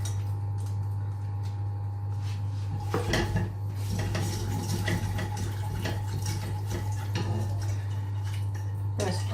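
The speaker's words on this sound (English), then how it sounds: "I feel like I have to use the whisk" Milk being whisked into a sauce in a pan, a metal whisk clinking and scraping in quick irregular bursts, close by, over a steady low electrical hum.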